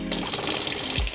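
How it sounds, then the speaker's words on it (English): A camper van's water pump runs with a steady rushing of water, a churning, gushing texture, close and continuous, no voices; the pump does not sound like it is working well. "Listen to their water pump."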